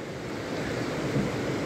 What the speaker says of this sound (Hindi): नदी का फ्लो देख सकते हैं आप